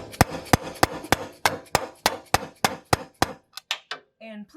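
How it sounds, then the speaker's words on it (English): Recoilless hammer blows ring out one after another seating an axle C-clip on a Toyota FJ Cruiser front end, about a dozen sharp bangs at a steady pace, loud and close, with no talking. "we're going to bang on it with our recoilless hammer to basically seat the C clip"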